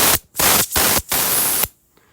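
Air hisses loudly from a Trek bicycle inner tube in several sharp bursts, separated by brief pauses, close and broadband, before cutting off to near silence.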